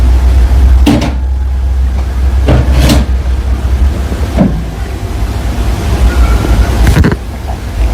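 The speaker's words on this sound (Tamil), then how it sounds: "இவங்க ரூமுக்கு வெளியே யாரோ நின்று கதவை தட்டுற மாதிரியே இவங்களுக்கு தோணியிருக்கு" Knocking on a door in a reputed haunted room, heard as a scattering of loud, sharp thuds at irregular intervals over a constant hissing background noise.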